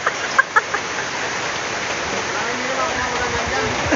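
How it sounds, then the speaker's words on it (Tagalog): Heavy rain pours down in a steady, dense hiss that fills the whole clip, with a couple of faint sharp clicks or clucks near the start. "Lakas pa rin ng ulan, pambira."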